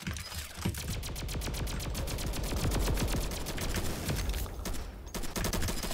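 A minigun in the Roblox game Flag Wars fires a rapid, unbroken stream of shots, loud and close, with a brief break near the end before the fire resumes.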